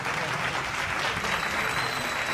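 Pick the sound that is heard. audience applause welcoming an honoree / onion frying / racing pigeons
audience applause welcoming an honoree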